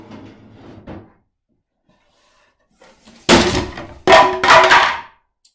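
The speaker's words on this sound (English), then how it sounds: "let me get out one of the dryer drawers" A wooden drying-rack drawer used for glazing and sanding a driftwood finish slides out with a few loud knocks and clatters, near and alone after a quiet stretch.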